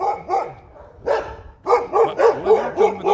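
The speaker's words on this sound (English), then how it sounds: "there's usually not that many dogs barking at this time of night" Dogs bark out on a city street at night, a run of sharp, fairly close barks and yips coming in quick bursts, the last stretch a steady string of barks, with no talking.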